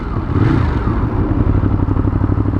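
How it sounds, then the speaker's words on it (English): A Ducati Monster 821 motorcycle with an aftermarket exhaust idles and burbles with a steady, throaty exhaust rumble and uneven pulsing, loud and close for a few seconds. "bring back the burble"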